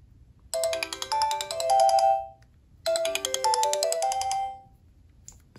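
A Sony Ericsson Spiro W100i mobile phone from 2010 plays its ringtone melody twice through its small speaker, two bright chiming phrases with a short pause between them, close and clear with no talking.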